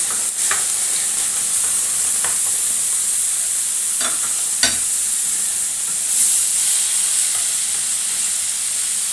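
Liver stirred in a frying pan, a steady close sizzle and hiss with a few sharp clinks and scrapes of the spoon against the pan.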